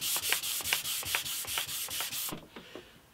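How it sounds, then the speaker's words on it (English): Wood hand-sanded with a cork block and 240 grit paper for a small coffee table, brisk rhythmic back-and-forth strokes about twice a second, close and loud, easing to softer rubs at the end. "go by hand sanding with a cork block"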